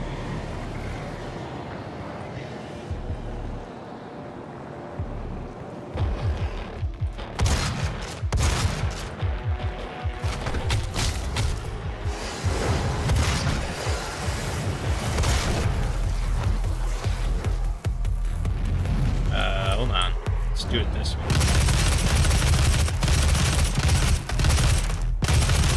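Gunfire from Doom (2016): dense, loud bursts of shots and impacts pile up from about seven seconds onward over a constant rumbling game backdrop, with no talk.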